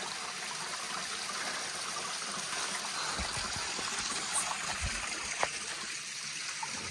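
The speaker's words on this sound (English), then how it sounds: "Nice little waterfall." A small waterfall on a hiking trail sends a steady, soft rush of falling water, a continuous even wash heard from nearby with an occasional faint splash or click, no talking over it.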